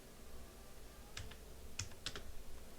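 Typing on a computer keyboard during an online freelancing profile update, heard as a handful of sparse, soft key clicks close to the mic over a quiet background hum.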